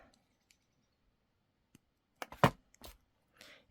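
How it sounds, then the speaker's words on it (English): Beading wire for a necklace snipped with cutters: a few sharp, close clicks in a quick cluster, with near silence on either side. "And then I'm going to cut it off."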